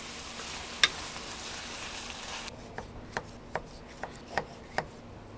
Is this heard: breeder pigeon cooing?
no